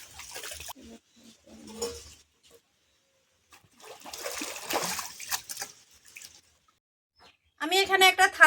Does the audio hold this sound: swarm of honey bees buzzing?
no